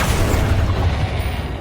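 The Accio summoning charm in Hogwarts Legacy casts as a brief, loud, rumbling magical burst with a mechanical pull, holding steady before it trails off slightly.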